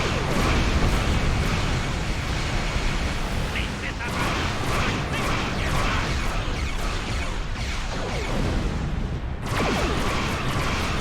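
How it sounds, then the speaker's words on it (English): Star Trek Online starship battle as a big torpedo is fired: a loud, dense, continuous barrage of booming, crackling weapon blasts and explosions with hardly a pause, rumbling low and hissing high throughout. "charge the big torpedo and fire at will"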